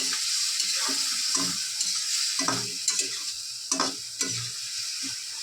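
Ginger-garlic spice paste for chicken patties is stirred and fried in a pan with a splash of water, a steady close sizzle broken by scraping spatula strokes, with no voices.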